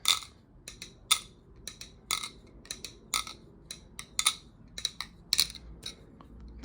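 A balisong butterfly knife being flipped, its handles clacking in quick sharp bursts, some single and some in tight pairs, crisp and close in an otherwise quiet room.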